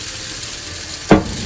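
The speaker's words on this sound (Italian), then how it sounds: "le zucchine incominciano di nuovo a sfrigolare e aggiungiamo gli spaghetti" Zucchini and spaghetti sizzling in a pan with oil, a soft continuous frying crackle close by, with one brief louder stir or splash near the end.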